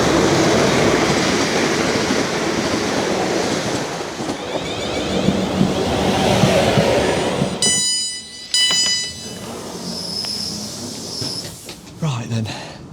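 A Weymouth-bound train pulls into a station platform, a loud rumbling roar that fades, followed by a high squeal and brakes hissing as it stops, with people talking nearby.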